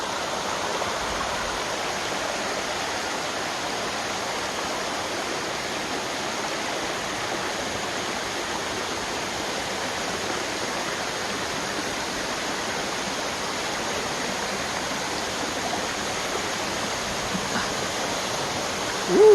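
Likeke Falls, a waterfall in a quiet forest setting, pours with a steady, broad rushing hiss that holds evenly throughout, with a faint bump of handling noise at the very end and no voices.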